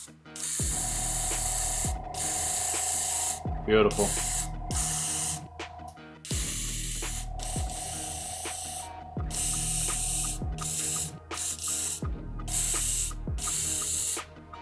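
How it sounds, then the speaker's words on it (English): An airbrush sprays mixed paint onto a sheet of paper in several hissing bursts a couple of seconds long with short gaps between them, close and steady, and one brief word spoken over a burst. "I like the way that sprays."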